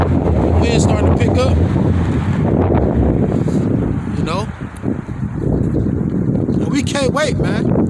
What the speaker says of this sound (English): Wind starting to pick up.